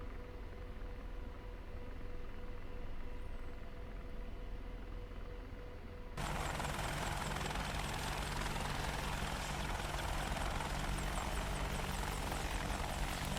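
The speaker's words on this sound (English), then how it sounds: "We'll pick up to a 5-foot hover and check our torque." An Apache attack helicopter in a flight simulator game lifts to a low hover, its rotor and turbine drone steady and loud, swelling noticeably partway through as power increases.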